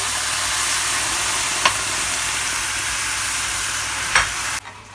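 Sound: white wine poured into toasting rice for mushroom risotto, sizzling

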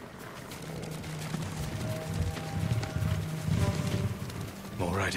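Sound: horse hooves clip-clopping in video game Ghost of Tsushima

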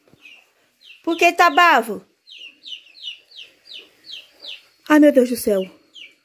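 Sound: chicks peeping

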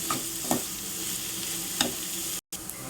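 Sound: onions and curry leaves sautéing in oil

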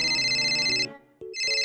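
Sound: phone ringing in Roblox video game

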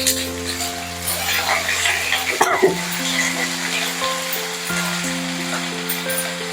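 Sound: frying onions and water lily stems in pan

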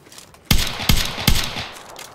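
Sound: gunfire in the video game PUBG (Battlegrounds)

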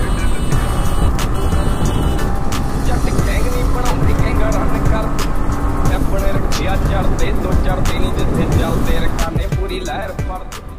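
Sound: Yamaha MT 15 motorcycle speeding up on the road

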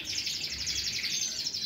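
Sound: finches chirping in an aviary, brown (pío bruno) birds

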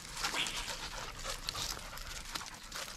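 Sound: dog panting and whimpering

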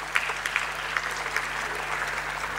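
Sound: audience applause

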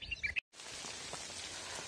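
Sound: heavy rain falling

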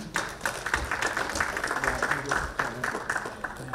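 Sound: applause

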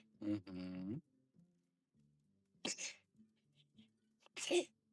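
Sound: child sneezing

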